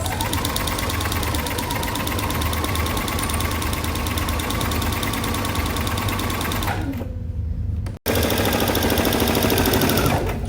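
Sewing machine stitching a quarter-inch quilt seam, a loud, fast, steady mechanical whir and rapid needle clatter running close and continuous, dipping briefly before resuming at full speed.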